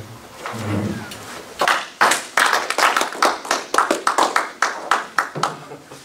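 A voice speaks briefly before a small Rotary Club audience breaks into scattered, distinct hand claps, sharp and fairly close, tapping along in an uneven rhythm for several seconds.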